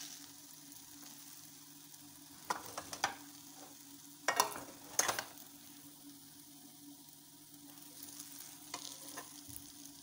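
A ladle scrapes and clanks through veg hakka noodles with broccoli in a kadhai over a gas flame, a few sharp metallic knocks breaking through a steady sizzle, no voices.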